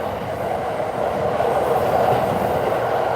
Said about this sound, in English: over there is another train. That's part of the Utsunomiya line.